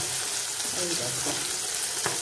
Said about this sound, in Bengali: মাছ সুন্দর ভাজা হচ্ছে।